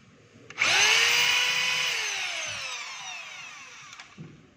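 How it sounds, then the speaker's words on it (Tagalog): DeWalt D25032 rotary hammer running in drill-only mode: a loud, high-pitched whine starts abruptly, spins up and then slowly fades as the motor coasts down over a few seconds. "lagay natin sa drill yung wala po siyang hammer"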